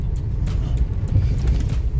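Car moving slowly along a highway near Chiplun on the Mumbai–Goa route: a steady, low engine and road rumble heard from inside, continuous and moderately loud, with faint wind and hiss above.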